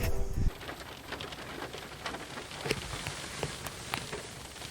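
Rain patters on an open hillside in Wales, a dense, moderately loud hiss dotted with sharper drops, after a brief louder thump at the start.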